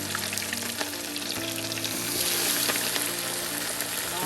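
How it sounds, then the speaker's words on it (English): Steady crackling sizzle of snapper frying in a pan for Jamaican escovitch fish, close and continuous, with faint tonal hum underneath. "now we're gonna go ahead and put our fish in the frying pan"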